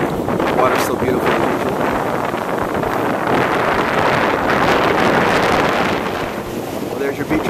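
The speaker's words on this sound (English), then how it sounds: "because it is insanely windy today" Strong wind buffets the microphone on a cool, windy beach in Destin, Florida, a loud, continuous roar with gusty surges and surf-like rushes throughout, fading slightly near the end.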